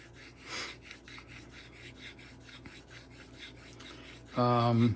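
A knife blade edge polished behind the apex with pressured strokes: a faint, soft rasping rub repeated in a steady rhythm, close and quiet, followed by a brief louder tonal sound at the end.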